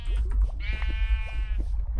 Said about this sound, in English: Okay, move it, sheep.